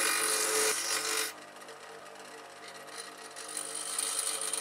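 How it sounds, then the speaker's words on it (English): Bench grinder with a badly glazed, unbalanced wheel, loud for the first second and then dropping sharply as it spins down, leaving a fainter whirring rattle that rises a little toward the end. "you can see how much the grinder vibrates as it spins down from the surface of the water cup"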